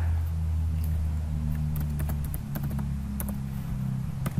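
Fingers tap a computer keyboard to enter a name, a quick irregular run of light clicks over a steady low hum, with no talking.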